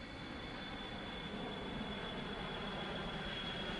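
Six Air Force C-141 Starlifter jet transports fly in close formation, giving a steady, broad engine roar with a faint high whine, distant and even throughout, with no talking.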